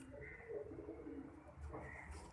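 Pigeons with rings on their feet coo softly at a distance, giving a few low, murmuring calls over faint background noise.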